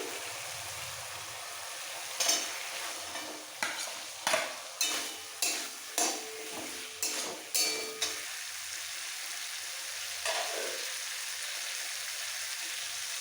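Spiced flat beans and fried potatoes stir-fried together in a pan, a soft sizzle punctuated by a run of about ten rhythmic scraping and clinking stirring strokes, then a quieter sizzle.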